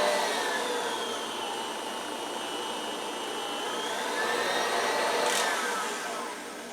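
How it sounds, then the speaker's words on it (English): An electric pasta machine runs at top speed on its widest setting while fresh pappardelle dough passes through, giving a steady whirring motor drone that swells and dips slightly. "we turn our machine on as fast as it goes, and we're on that number 1 setting, the widest setting"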